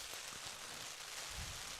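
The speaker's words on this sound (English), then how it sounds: "we are currently experiencing a rain delay" Rain falling steadily during a rain delay at a high school baseball game, a constant broadband hiss with no breaks, even and moderately loud, with no voices.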